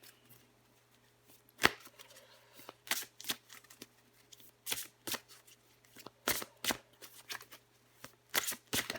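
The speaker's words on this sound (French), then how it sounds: "Je vais encore tirer une carte pour vous, les vierges." Tarot cards being shuffled by hand before one is drawn: a run of crisp, close riffling slaps and taps in irregular bursts over a faint steady hum, with no talking.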